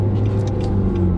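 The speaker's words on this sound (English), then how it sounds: "Engine feels like it likes to rev, spool, but the engine seems very revvy." A 2017 Nissan Sentra Turbo's engine drones steadily from inside the cabin while driving, a low sustained rumble with a faint rise in pitch, loud and close with no talk.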